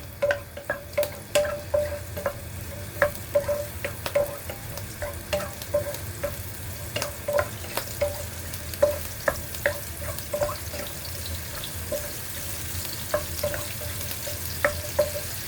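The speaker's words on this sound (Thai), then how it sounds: "ใส่พริกกับกระเทียม ผัดเลยนะคะ" Chili and garlic stir-fried in a pan give a continuous sizzle broken by frequent sharp scrapes and taps of the utensil, with no talk.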